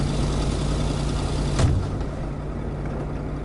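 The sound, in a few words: loud truck engine in a video game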